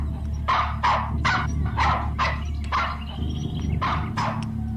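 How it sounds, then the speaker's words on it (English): A small dog barks repeatedly outside a house as a man approaches the porch, about nine sharp, evenly spaced yaps over a steady low hum, fairly close and alone with no talking. "that little dog is barking at Arnold approaching the house"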